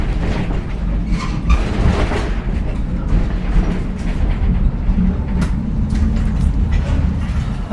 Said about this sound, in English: we took the tram up to the Basilica, the top of this mountain